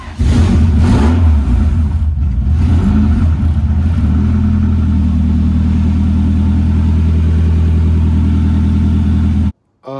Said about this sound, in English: Just going for a drive in my 240.